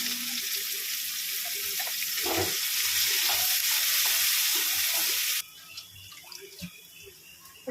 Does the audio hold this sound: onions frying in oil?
yes